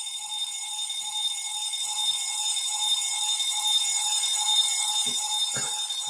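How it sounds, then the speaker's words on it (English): A household fire alarm sounds continuously as a steady, shrill, piercing tone, loud and unbroken throughout with no talking. "here comes the alarm again"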